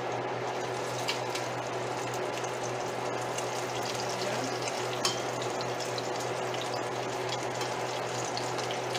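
Bacon fries in a pan with a steady, crackling sizzle that runs unbroken at close range. Occasional small pops rise above the even hiss.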